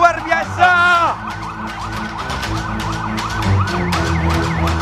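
An ambulance siren wails in repeated rising and falling sweeps, loud at first and then continuing steadily in the background.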